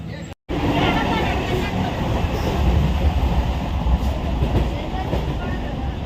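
A passenger train runs steadily at dawn, with a continuous loud rumble and rhythmic wheel clatter heard from inside the carriage, and faint crowd murmur beneath.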